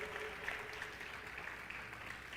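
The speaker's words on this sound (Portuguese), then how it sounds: "Você pode dar um aplauso ao Senhor pela palavra dele." A church congregation applauds, a dense, even wash of many clapping hands heard at a distance, fairly faint and sustained without a break.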